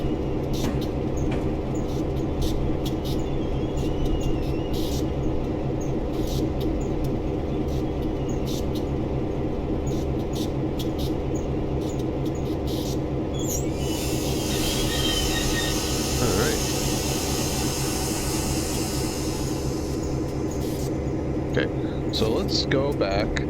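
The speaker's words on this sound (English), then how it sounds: "I'm gonna go ahead and just bring this train to a stop real quick." A Rio Grande freight train in Train Simulator 2022 rumbles steadily as it slows to a stop at Roper Yard, Salt Lake City. A brief burst of brake or wheel hiss comes midway, and the clanking grind continues throughout.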